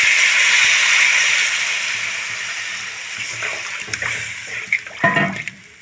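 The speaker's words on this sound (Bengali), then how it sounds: "এখন আমি জল অ্যাড করে দেবো" Water poured into a pan of simmering fish curry, a bright steady splashing pour that fades into softer bubbling and a few clinks near the end.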